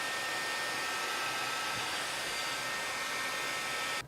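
Heat gun shrinking heat shrink tubing onto parts of a marble machine, a steady close whooshing blower roar that runs unbroken for about four seconds before cutting off abruptly at the end.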